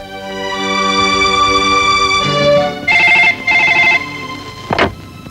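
A telephone rings close and loud with shrill electronic bursts, over a steady musical tone that fades out toward the end.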